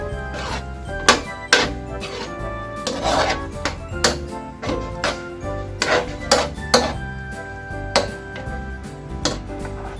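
A utensil stirring ground pork guisado in a pan, with fish sauce just added: repeated sharp clinks and knocks against the pan at an irregular rhythm, close and fairly loud.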